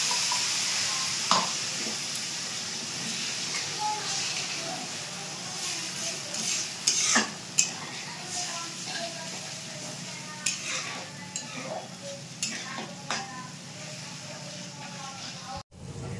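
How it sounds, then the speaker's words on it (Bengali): Spice masala of ginger, garlic and green chilli paste frying in oil in a pan, a steady soft sizzle with scattered spoon scrapes and clinks as it is stirred, while someone talks over the cooking. "এখানে দেখো মশলাটা কি সুন্দর কষে গেছে, তেলও ছেড়ে দিয়েছে মশলা দিয়ে"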